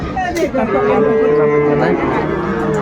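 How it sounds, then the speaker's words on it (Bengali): A dairy cow at a cattle market in Dinajpur, Bangladesh lets out a single long, loud, close moo lasting a few seconds amid faint crowd murmur. "বেশ সুন্দর গাভী বাচ্চুর"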